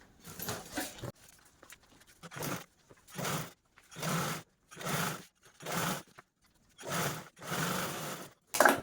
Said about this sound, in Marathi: इकडच्या साईडने पण आपण दापटीप देऊन घेऊया अशा पद्धतीने